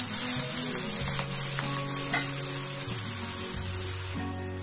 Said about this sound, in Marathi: याला थोडंसं परतून मऊसूत शिजवून घेऊया टोमॅटो पण.